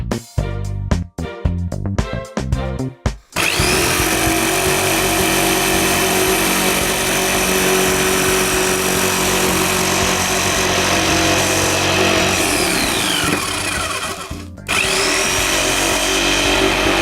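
A power drill drives screws to fix small brackets stiffening a flat-screen build: a few short stuttering bursts, then a long loud continuous whir that cuts out briefly near the end.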